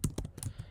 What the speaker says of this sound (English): we have to hit the return key of our keyboard